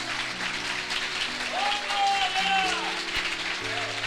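A church congregation keeps clapping in a thick, even roar of applause, while a voice carries over it and soft sustained keyboard tones sit beneath.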